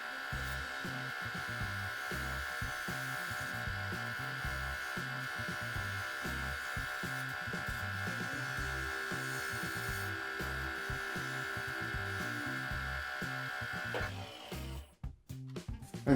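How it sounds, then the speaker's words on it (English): A spindle gouge cuts a wooden goblet on a lathe, giving a steady whirring tool noise with rhythmic low-end scraping that runs nearly unbroken and close, then cuts off near the end. "I'm going to just go in there with my spindle gouge so I can get in a little closer"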